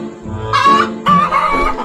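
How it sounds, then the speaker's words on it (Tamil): A native country chicken clucks in two short, loud bursts close by, with throaty, slightly strained calls and no other sound around them. "இந்த பாரு கோழி. அம்மடிப்பட்ட சாதா கோழி இல்ல, நாட்டு கோழி."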